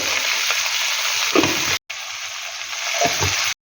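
Mango being stirred in a frying pan with fish, a steady close sizzle of hot oil with soft scraping stir strokes, briefly cutting out partway through.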